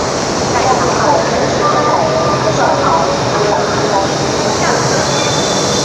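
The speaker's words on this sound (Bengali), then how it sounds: "আমাদের ট্রেন চলে আসছে সিক্স জি সিক্স ওয়ান থ্রি থ্রি এটা হচ্ছে আমাদের ট্রেন" Continuous rumbling roar of a bullet train arriving at a station, with a broad noisy wash and faint squeals, steady throughout.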